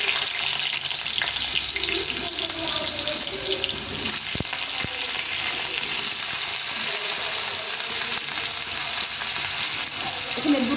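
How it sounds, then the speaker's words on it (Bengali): Potatoes fry in hot mustard oil with a strong, continuous sizzle and crackle, close and steady throughout, with occasional stirring knocks. "তেলটা গরম হয়ে গেছে, প্রথমে একটু আলুটা ভেজে নেব।"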